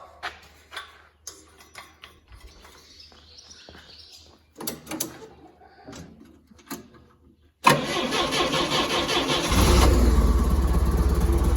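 A small tractor with hard tires is cranked and starts up, first some quiet knocks and clatter, then a sudden loud engine catch that settles into a steady, even louder idle close by.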